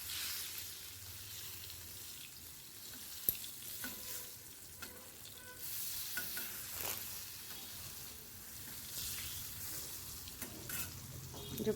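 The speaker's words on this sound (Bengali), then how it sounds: "এদিকে পটল ভাজি হচ্ছে" Pointed gourd (potol) frying in a pan, a quiet steady sizzle with scattered spatter pops and a few utensil clinks, low in level and without speech.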